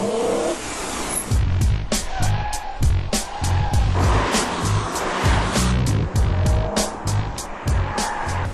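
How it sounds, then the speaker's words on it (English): A V8 BMW M3 with 414 horsepower drives hard nearby, its engine roaring steadily with rapid shifts and sharp pulses, the tires occasionally squealing, loud and close throughout. "48 enthusiasts from the USA were among the first in the world to drive the V8 414 horsepower BMW M3"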